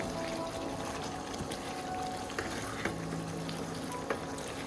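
A pot of vegetable curry simmers on the stove with a steady bubbling hiss, soft and continuous, broken now and then by a faint click or knock nearby.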